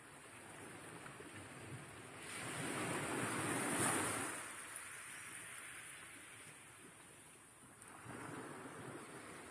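Ocean surf in GTA after jumping from a sinking ship into the sea: a broad wash of waves and wind swells through the middle of the clip, then eases back to a steady rushing background with no talking.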